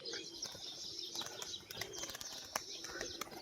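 Pigeons coo softly and steadily throughout, with a few bird chirps and brief wing flaps mixed in, set among a pair of same-coloured tumbler pigeons being shown off in Murshidabad.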